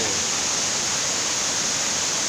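Sap Sombun waterfall roars as a steady, dense wash of falling water, loud and unbroken throughout with no voices over it.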